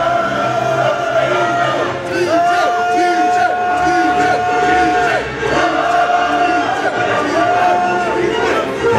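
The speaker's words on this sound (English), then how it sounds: "PCO chants from the crowd" Wrestling crowd at a live match chanting for PCO, Pierre Carl Ouellet, a loud continuous rhythmic chant from many voices filling the arena, with cheering swelling around the repeated calls.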